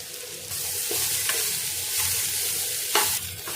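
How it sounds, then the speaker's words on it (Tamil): Steady, loud sizzling of cauliflower frying in hot oil, with occasional scraping stirs breaking through the hiss. "அப்படியே எண்ணெயிலேயே வதங்கி வந்துடும்"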